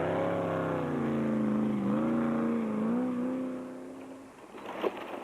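Rally race car, the Automotive Tyre Rack Race Car in the Limpopo 400, engine revving with rising and falling pitch, loud and near, then fading away, followed by a brief clatter.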